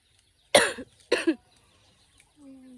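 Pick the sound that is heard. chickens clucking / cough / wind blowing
cough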